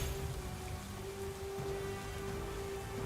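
Rain pours in a Pokemon Violet battle, a steady dense patter of falling drops with a constant tonal hum beneath it, even and unbroken for the whole stretch.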